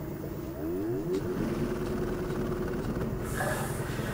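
An LG WM4000HWA TurboWash front load washer ramps up toward high spin speed, a steady mechanical hum and whir that rises in pitch as the drum accelerates, with a hissing spray near the end.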